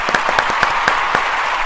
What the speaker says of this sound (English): We do the clap here.